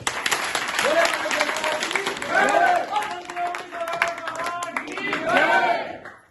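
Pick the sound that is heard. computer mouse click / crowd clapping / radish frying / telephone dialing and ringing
crowd clapping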